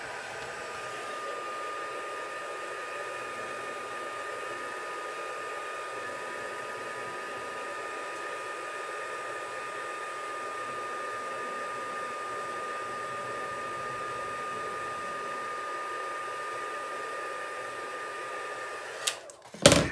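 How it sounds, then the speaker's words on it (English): Heat gun for heat embossing blowing with a constant loud whooshing hum for nearly twenty seconds, then cut off with a brief clatter at the end. "I've just got my heat gun here to the side"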